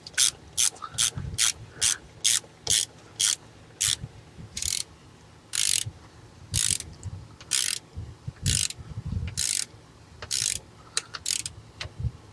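A ratcheting torque wrench clicks in quick repeated bursts while tightening valve cover bolts on a 2008-2012 Nissan Rogue, the short crisp ratchet strokes coming close and loud with brief pauses between runs.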